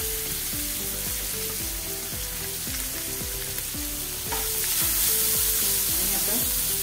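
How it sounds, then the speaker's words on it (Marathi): Onion for kanda poha frying in a pan with green chillies, a steady dense sizzle throughout, growing slightly louder partway through, with no talk over it. "आता कांदा मऊ होईपर्यंत चांगलं परतून घ्यायचं।"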